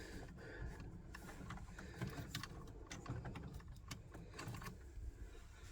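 An Ecowater water softener valve, reset after showing error code 1, whirs and ticks faintly as it motors through its positions, with a steady low mechanical hum and small clicks.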